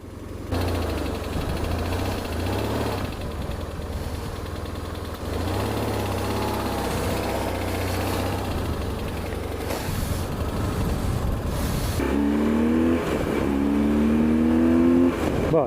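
Motorcycle engine running on a ride after a fuel stop, a steady close-up drone with rises in revs and a clear climbing whine near the end, with no talk.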